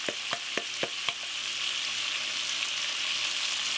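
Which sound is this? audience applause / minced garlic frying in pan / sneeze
minced garlic frying in pan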